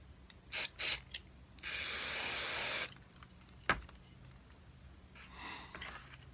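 A cleaning spray hisses in one steady burst of about a second over Stihl MS 250 chainsaw carburetor parts, with a couple of short puffs and small handling clicks before and after.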